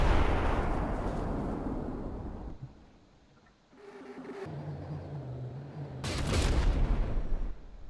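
Heavy booming cannon fire from ship battle in a video game, two loud blasts with rumbling tails, a quieter lull between, then another large blast near the end.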